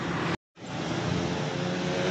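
Harapan Indah sleeper bus pulling out at night: a steady, broad engine rumble that holds near and constant, broken only by a brief cut to silence near the start.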